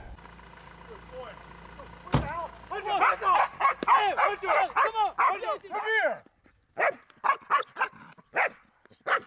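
A protection-trained dog barks in rapid bursts during guard training, loud and close, with a sharp knock at the start and a short pause before a second volley of barks.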